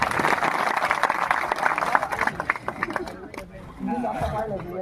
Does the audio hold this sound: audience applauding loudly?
yes